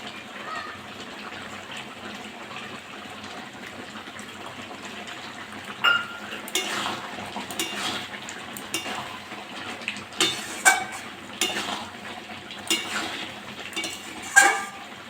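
Fried spices being stirred into a plum pickle, with a spoon scraping and clinking against the cooking pot. The sound is soft and close, with sharper clanks growing more frequent in the second half and occasional talk over it.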